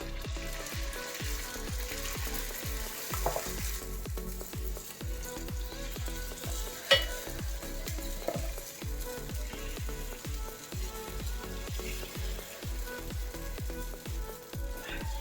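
Ponganalu batter frying in oil in the wells of a paniyaram pan, a steady close sizzle with a faint rhythmic ticking running through it, and no talking.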